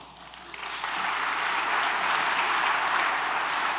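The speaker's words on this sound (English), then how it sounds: "so let's leave the applause for the end" An audience at a book discussion breaks into applause that swells over the first second into a full, sustained roar of clapping, loud and continuous to the end.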